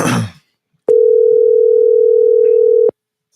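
A steady single-pitch telephone dial tone from a Cricket phone line, about two seconds long and loud, follows a brief burst of voice, then cuts off abruptly.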